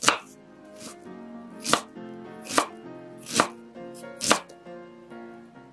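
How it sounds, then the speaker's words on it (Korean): A knife chops a quarter onion into small pieces on a cutting board for a tomato and egg breakfast, five or six sharp, evenly spaced blows standing out clearly against a quiet background with no talking. "양파 4분의 1개는 작은 크기로 써세요."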